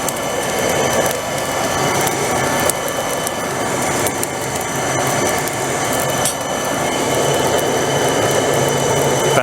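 A coal fire roars at full blast in a packed forge, a loud, steady broadband rush that holds constant throughout with no pauses.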